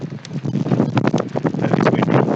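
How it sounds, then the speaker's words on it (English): Gusty wind buffeting a microphone at a football match, a continuous rough roar with rapid flutters and bursts, fairly loud and close. "That is windy."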